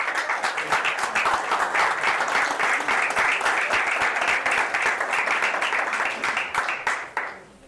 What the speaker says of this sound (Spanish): Bríndale un aplauso al Señor